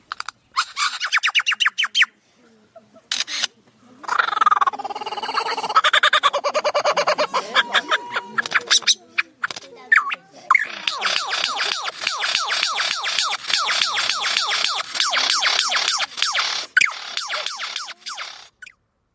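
A lyrebird pours out a long run of mimicked calls: rapid clicking bursts imitating a camera drive, rolling kookaburra-like cackling laughter, and sharp zaps imitating a child's laser gun, all close and loud.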